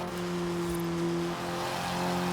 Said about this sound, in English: This is genuine, honest to god exhaust note, which is fan-bloody-tastic